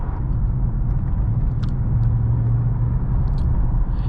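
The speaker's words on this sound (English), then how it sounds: "That V8 just like always has so much power." A 2015 Mercedes-Benz S550 with a V8 engine drives along a road, giving a steady, loud low rumble of engine and road noise that holds evenly throughout with no voices.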